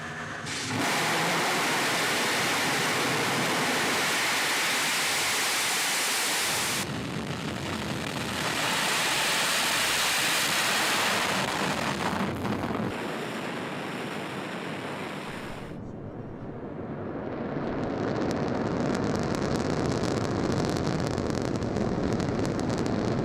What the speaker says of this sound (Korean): 6시 24분 누리호의 엔진이 강렬한 불꽃을 내뿜기 시작했습니다